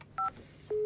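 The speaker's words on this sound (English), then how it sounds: "So let's dial this phone number." Telephone keypad dialing tones in the video game Office Simulator, two short beeps in quick succession followed by a longer tone, clean and close with no talk.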